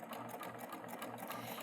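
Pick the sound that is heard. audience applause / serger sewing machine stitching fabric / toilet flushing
serger sewing machine stitching fabric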